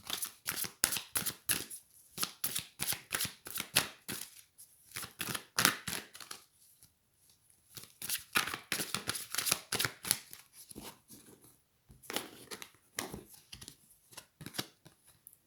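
Oracle cards being shuffled and drawn in a long run of rapid, crisp riffling flutters with short pauses between bursts, close and clear with no talking.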